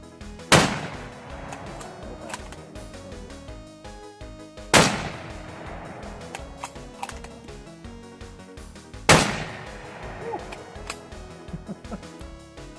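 Three loud, sharp gunshots from a Revelation 225 firearm, spaced about four seconds apart, each with a ringing outdoor decay and no talking.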